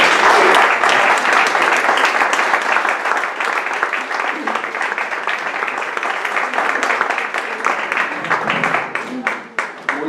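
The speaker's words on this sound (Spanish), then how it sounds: "me atrevo a pedir un fuerte aplauso para Isidro Sierra" A poetry evening audience gives a strong round of applause for a poet and reciter, with thick, sustained clapping that is loud at first and thins toward the close.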